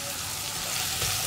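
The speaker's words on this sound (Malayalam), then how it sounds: "ഈ സവോള ഒന്ന് ലൈറ്റ് ബ്രൗൺ ഷെയ്ഡായി വരുന്നത് വരെ ഇളക്കി കൊടുക്കുക" Sliced onion and green chilies sizzling in a pan while being stirred for a vegetable curry: a dense, continuous hiss that grows slightly louder toward the end, with no voices.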